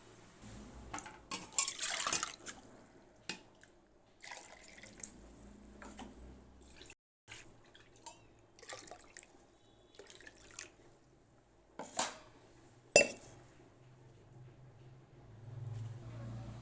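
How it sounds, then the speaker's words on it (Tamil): Water splashes and sloshes in a metal pot as it is mixed in while making pepper rasam, with clinking and scraping of a utensil stirring, intermittent clatters, and faint voices at times. "தேவையான அளவு தண்ணி சேர்த்துக்கலாம்"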